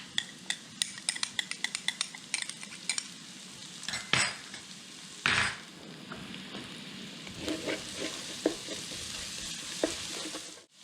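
Garlic and ginger sizzle loudly in a hot pan while a utensil stirs and scrapes them, starting with a quick run of sharp clinks and settling into a steady fry broken by louder scrapes.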